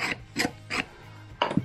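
A scriber scoring a cutoff line on steel flat bar, heard as four short rasping strokes, separated by pauses, close up with no talk.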